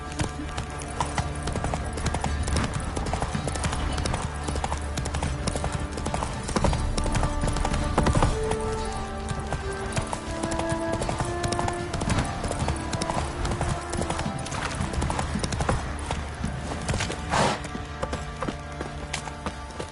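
A horse gallops in The Witcher 3: Wild Hunt on PS5, its hooves beating a fast, continuous rhythm up close beneath game music and ambient sound.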